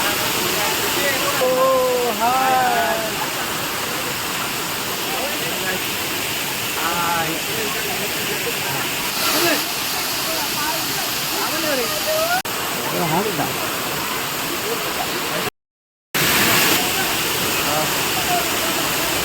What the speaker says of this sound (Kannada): Welcome to Sirimane falls.